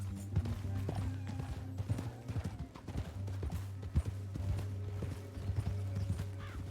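Horse hooves clip-clop in a steady galloping rhythm in the video game Red Dead Redemption 2, moderately close, running continuously alongside a low hum with a faint voice in the background.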